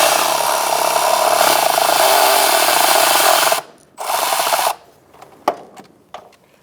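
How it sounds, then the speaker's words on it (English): A ratchet with an extension and 8mm socket loosening the rear clamp on a front steering rack bellows of a 2002-2006 Toyota Camry, a loud sustained rapid clicking that stops, resumes briefly, then gives way to a few scattered sharp clicks. "I'm going to use an 8mm socket and an extension to loosen up the clamp in the back."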